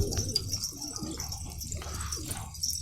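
Elvan pigeons in a new coop, soft throaty cooing calls repeated in short bursts, fairly close, with faint rustling and light chirps in the background.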